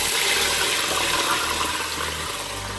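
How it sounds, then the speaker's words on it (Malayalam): Water pours steadily into a pot for cooking Thalassery dum biryani rice, a close, continuous rushing splash with no talk. "റൈസിന് ആവശ്യമുള്ള വെള്ളം ഒഴിച്ചു കൊടുക്കാം"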